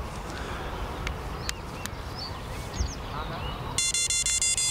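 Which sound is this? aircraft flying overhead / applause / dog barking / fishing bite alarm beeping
fishing bite alarm beeping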